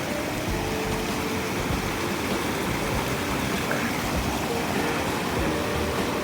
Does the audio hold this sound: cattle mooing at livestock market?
no